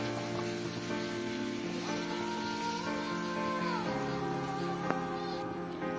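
Yogurt going into vegetables in a pan over low gas, a soft steady sizzle with light stirring, faint and continuous beneath a background tonal hum.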